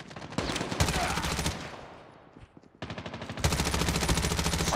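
A QQ9 submachine gun fires in the mobile shooter Call of Duty Mobile: loud, rapid automatic bursts, then a brief quieter lull, then another long sustained string of shots.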